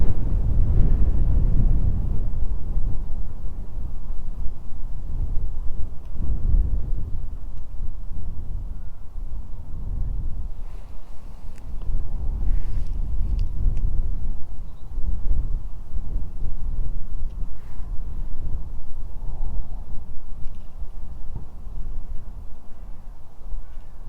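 Strong wind buffets the microphone beside a trout stream, a loud continuous low roar that surges and eases in gusts, with no voices.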